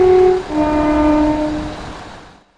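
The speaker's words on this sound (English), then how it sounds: "I know the horn is recycled from the default Class 170" The two-tone horn of a Class 172 Turbostar diesel multiple unit in Train Simulator sounds loudly, shifting from a lower tone to a slightly different pitch and held for about two seconds before fading away.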